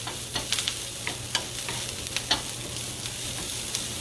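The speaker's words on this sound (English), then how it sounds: "just going to saute a little bit" Food sautéing in a hot pan gives a steady close sizzle, broken by scattered sharp clicks and scrapes as it is stirred. No one talks.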